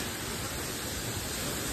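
A waterfall rushes as a steady, dense roar of falling water near a hill fort, filling the short stretch evenly without a break.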